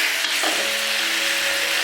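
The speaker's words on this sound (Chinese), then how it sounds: "接下来我们把炸好的肉条放进去，给它翻拌" Fried pork strips being tossed in sweet and sour sauce in a wok: a loud, steady sizzle close by, with a faint stirring scrape and no voices.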